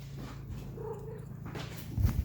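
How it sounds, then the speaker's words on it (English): Domestic cat throwing a fit, low growling and yowling noises rising and falling, fairly close, with a louder burst near the end and no speech. "My cat's throwing a fit about something."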